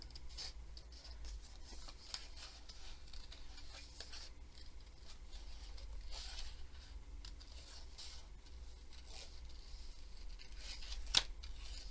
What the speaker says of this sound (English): I'm just going to cut that off now